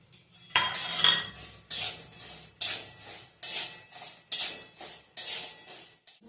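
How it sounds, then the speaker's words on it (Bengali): Moong dal dry-roasts in a wok while a metal spatula scrapes and clinks against the pan in regular strokes, each about a second apart, close and clear with no talking. "কড়াইয়ে আমি ভেজে নিচ্ছি"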